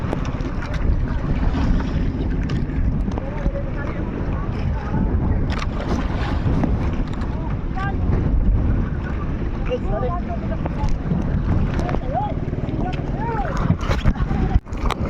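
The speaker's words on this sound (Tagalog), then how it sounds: "Habang naliwanag pati tanghali, lalong lumalaki ang alon. Lalong lumalakas ang hangin." Strong monsoon wind buffets the microphone over the rushing wash of big waves against a fishing boat's hull at sea, a constant loud roar with occasional gusts, and a voice speaking faintly underneath.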